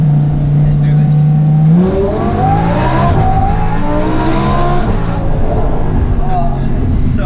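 A naturally aspirated Lamborghini V10 starts as a steady low idle, then revs hard with rising and falling engine pitch that stays loud and close throughout, with people talking over it.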